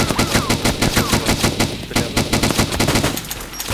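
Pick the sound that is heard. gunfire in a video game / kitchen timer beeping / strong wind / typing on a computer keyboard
gunfire in a video game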